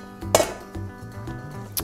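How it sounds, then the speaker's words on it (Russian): A mixing bowl set down on top of a saucepan of water heating on a stovetop burner for melting chocolate, giving a clear ceramic-metal clink near the start and a second lighter knock near the end. "И ставлю сверху миску."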